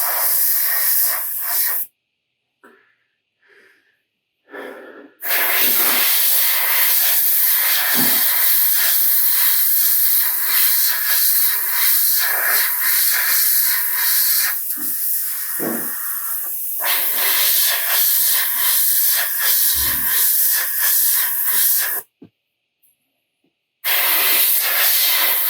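Lacquer paint sprayed onto a custom quarter-scale Thor sculpture produces long, steady airbrush hissing bursts, close and loud, broken by a few short silent pauses.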